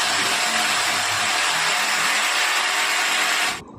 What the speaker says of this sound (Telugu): తర్వాత హ్యామర్ డ్రిల్ సాయంతో హోల్స్ వేసుకుంటున్నాము.